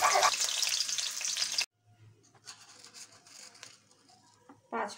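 Grated coconut hits hot oil left from frying peanuts, giving a loud burst of sizzling that cuts off abruptly to a much quieter crackle before flaring briefly again.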